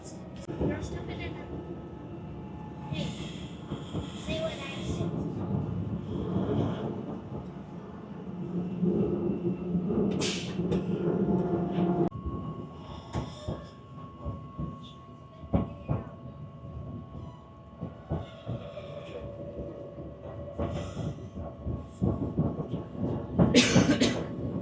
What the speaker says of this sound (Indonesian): Ini dia keretanya jalan teman-teman